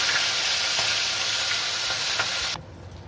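A fish head rubbed with salt and turmeric sizzles loudly in hot oil in a kadai, a constant close hiss that cuts off sharply near the end.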